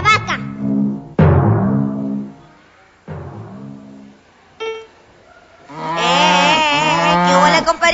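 A man imitates a cow with several loud, drawn-out vocal moos, separated by short pauses and ending in one long wavering bellow, close to the listener.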